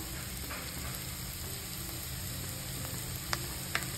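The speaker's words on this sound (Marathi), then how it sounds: "आता कांदा छान परतून झालाय, आपण तिखट टाकायचं त्याच्यामध्ये, आपला काळा मसाला" Sliced onion fries in a pan with red chili powder and black masala, a quiet, even sizzle with a couple of light utensil taps near the end.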